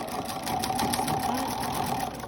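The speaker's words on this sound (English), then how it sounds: "you're going to do a little back stitch just to reinforce" Sewing machine running steadily as it back stitches a seam on a pleated fabric face mask, a continuous close whirring hum with fast needle clatter for a couple of seconds.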